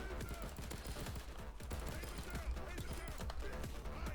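A minigun-wielding bulldozer in Payday 2 fires sustained rapid bursts amid other dense gunfire, a continuous loud rattle with voices talking over it.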